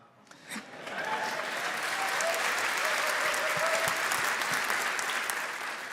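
A large audience at an award presentation claps steadily for several seconds, a dense wash of applause that swells quickly and holds, tapering slightly at the end.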